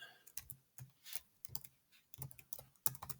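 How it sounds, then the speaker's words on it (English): A computer keyboard is typed on in quick bursts of soft, close clicks, with short gaps between groups of keystrokes. "if I can type"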